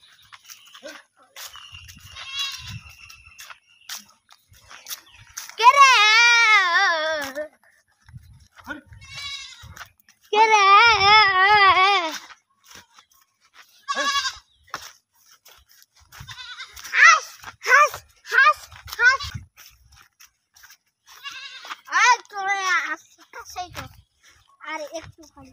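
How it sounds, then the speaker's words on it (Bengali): Goats bleat repeatedly at a village home in Pirganj upazila, Thakurgaon, with several wavering, nasal calls nearby between quieter rustles and scattered voices. "ছাগল,"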